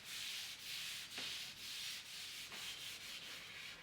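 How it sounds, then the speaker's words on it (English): Open weave cloth rubbing hard wax oil into a wooden furniture surface, a soft rhythmic swishing in repeated strokes, close and alone with no voices. "I use an open weave cloth to apply the hard wax oil."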